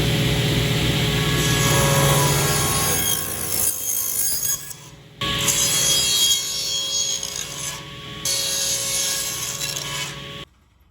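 A handsaw cuts through a large wooden block for a toy backhoe loader, rasping steadily and close for several seconds, pausing briefly, then resuming before stopping.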